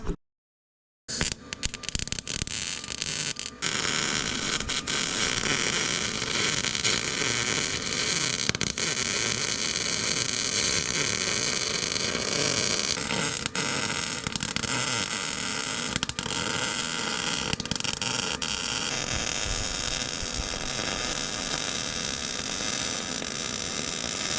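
MIG welding a bead on a trailer A-frame coupler, with a steady close crackling buzz running almost unbroken for over twenty seconds after a brief silent start.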